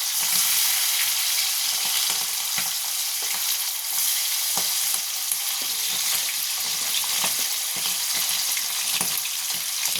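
Pre-fried shrimp hit a pan of hot oil and garam masala for chirer polao, a loud, even, close-up sizzle running steadily throughout with faint crackles.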